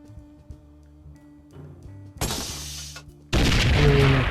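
Gunfire in a VR shooter game played on a Meta Quest 2: a sharp loud burst, then a second heavier, sustained volley of shots after quiet rumbling game sounds.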